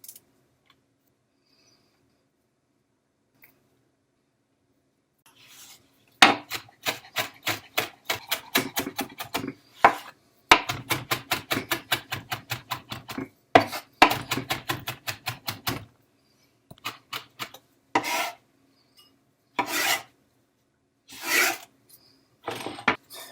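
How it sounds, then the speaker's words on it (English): A knife chopping fresh sage, rosemary and thyme finely on a cutting board for turkey, quiet at first, then bursts of rapid, evenly spaced chops separated by short pauses, close and crisp. "I'm going to take the time to strip all these off of the stems, and then we're going to chop that up fine"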